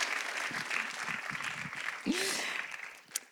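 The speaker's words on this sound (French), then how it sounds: "J'ai entendu des petits applaudissements." Light, scattered applause from a studio audience during a televised discussion, faint and brief, with a voice speaking over it.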